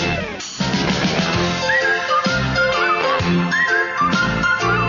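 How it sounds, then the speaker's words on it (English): Whistling carries the melody of the theme music for It's Garry Shandling's Show, a bright tune played loud over backing instruments and sustained from start to finish. "We're almost to the part of where I start to whistle."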